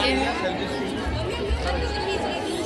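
Crowd chatter at a packed Noida fair: many overlapping voices in a steady, close hubbub with a low rumble underneath, no single speaker standing out.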